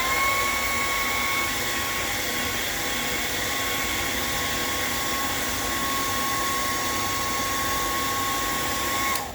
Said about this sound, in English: I get a blow dryer